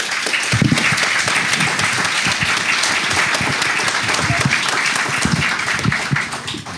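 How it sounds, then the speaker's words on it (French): A lecture audience applauds a guest, loud sustained clapping from a large crowd with distinct individual claps, steady throughout. "nous pouvons applaudir à nouveau notre invité"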